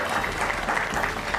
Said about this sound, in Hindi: धर्म सिंह जी, तालियां तालियां धर्म सिंह जी।